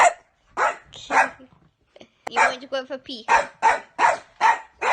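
A pet dog barks in short, regular bursts at close range indoors, several barks in a row, while a person talks to it in between.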